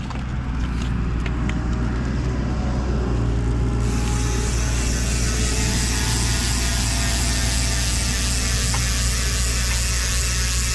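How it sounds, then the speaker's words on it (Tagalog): Rapid, continuous mechanical clicking buzzes steadily up close from a GUV 1351 mountain bike rear hub freewheeling, a dense ratcheting whir that holds without pause for the whole stretch. "yung tunog ng GUV 1351 MTB hubs kapag naka free wheel"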